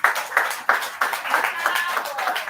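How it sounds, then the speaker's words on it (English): A small audience at a congress meeting claps for an admin, a few hands making distinct, fairly close bursts of claps in an uneven rhythm that blends into scattered applause, with some voices mixed in. "Please, a round of applause for him."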